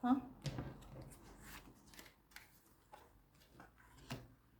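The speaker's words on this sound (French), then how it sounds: "Deux cartes." Tarot cards shuffled and laid down in several quick papery riffles and soft slaps, close and fairly quiet, with a voice talking between them.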